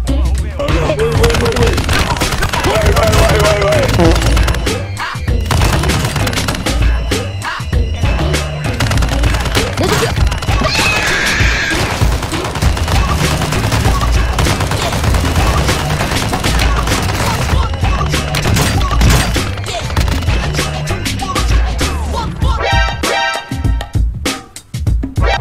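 Rapid bursts from the RAAL heavy machine gun in a video game, loud continuous clattering fire with dense repeated shots and booming impacts running almost the whole time, a few brief pauses between volleys.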